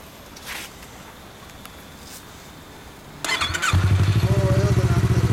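After quiet background noise, a 2015 Yamaha R25 motorcycle with a Yoshimura exhaust fires up close by and settles into a throaty, pulsing idle.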